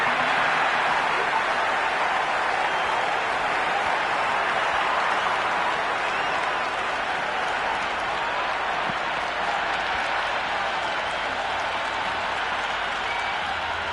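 Steady, loud crowd applause and cheering in a Cricket 26 T20 match between India and South Africa, a broad continuous roar that holds evenly throughout with no break.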